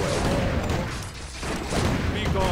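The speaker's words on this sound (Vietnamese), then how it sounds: "Tập trung súng bắn vào con này" Gunfire in the Warcraft 3 Reforged game, a dense continuous clatter of shots and impacts that dips briefly in the middle, with speech mixed under the noise.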